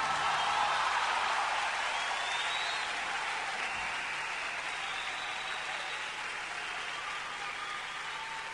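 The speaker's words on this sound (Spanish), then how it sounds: "Es el momento de reconocer con este aplauso la enorme trayectoria y trascendencia de nuestros queridos amigos y hermanos" A large audience at the Copihue de Oro 2011 awards ceremony in Chile gives steady, dense applause that holds loud throughout and fades only slightly toward the end.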